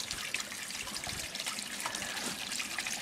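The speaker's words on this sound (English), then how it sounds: "Pump has just been going now for about a few seconds" A small pump lifts water into a radial flow filter, producing a steady close trickle and splash of running water with bubbling gurgles throughout.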